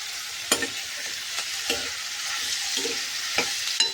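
Coconut pieces sizzle and fry in a pan for a mushroom curry, a soft steady hiss broken by several sharp crackles and pops at irregular moments, close and clear with no speech.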